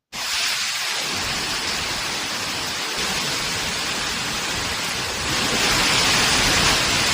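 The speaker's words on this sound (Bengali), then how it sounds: "এর মধ্যে শুরু হয়ে গেছে ঝেঁপে বৃষ্টি, তার সাথে ঝড়" Heavy rain pours during a storm, a dense, loud, steady roar of downpour that swells even louder toward the end, with no talking.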